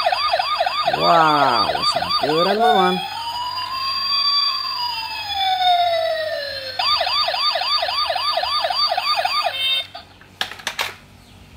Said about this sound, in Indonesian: Wih, ada mobil polisi.